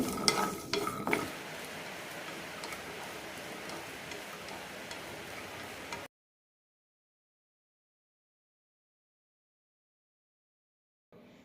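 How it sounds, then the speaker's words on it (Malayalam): Jackfruit seeds frying and being stirred in a pan on low flame, a soft steady sizzle with a few clattering knocks at the start, then abrupt silence for several seconds before a brief return. "ലോ ഫ്ലെയിമിലിട്ട് തന്നെ വറുത്തെടുക്കണം ഇല്ലെങ്കിൽ തൊലി പെട്ടെന്ന് കറുത്തു പോകും"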